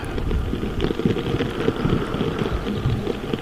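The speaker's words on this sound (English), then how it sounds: "I really wanted to record up close the leaves dripping, dropping from all the raindrops." Rain falls steadily on a garden, drops pattering and dripping off leaves close by, a dense continuous crackle of small impacts with no voices.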